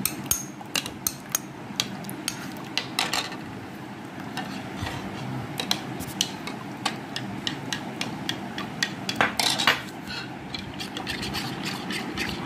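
A homemade hair pack mixture is stirred into about four litres of cooled boiled water in a container, producing a steady run of sharp, close clicks and taps over a low background rumble, with no speech.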